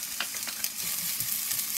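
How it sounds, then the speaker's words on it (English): Chopped onions and scallions sizzle steadily in hot oil for a Jamaican beef patty filling. The frying crackle is close and continuous, with faint stirring scrapes and no voices. "That nice sizzling."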